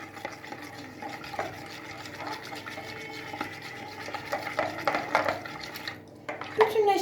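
Dough ingredients, yeast and milk among them, being mixed with a spoon in a bowl, with soft scraping and clinking strokes that grow busier and louder toward the end and no talking.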